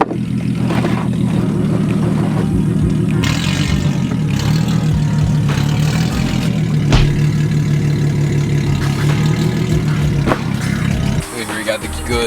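A car engine with a Tomei Ti titanium exhaust rumbles loud and deep, rising into revs over a steady low drone, then cuts back near the end.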